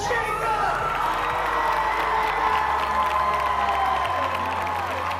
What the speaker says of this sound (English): give a huge round of applause to Jacob